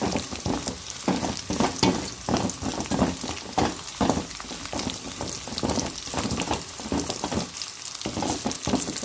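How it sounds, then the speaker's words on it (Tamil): Steady crackling sizzle of green chilies and onions frying in hot oil, continuous and close, with occasional louder pops and stirring scrapes. "பச்சை மிளகாய் சேர்த்து வெங்காயத்தோடு நல்லா வதக்கிக்கிடலாம்"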